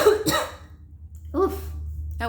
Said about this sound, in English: Oof, that was a cough.